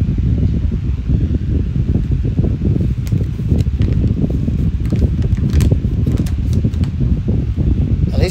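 A 9-inch high velocity fan runs at speed, a dense, steady broadband whoosh of moving air with a low motor rumble, loud and close, with faint ticking rattles partway through.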